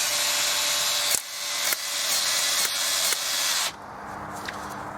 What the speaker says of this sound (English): He's right-handed, he's holding the drill with his left hand.